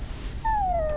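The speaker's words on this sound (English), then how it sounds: "And shut that dog up," A dog in the video game Dragon Age: Origins lets out a single drawn-out whine that slides downward in pitch, with faint game ambience underneath and a soft thump at the end.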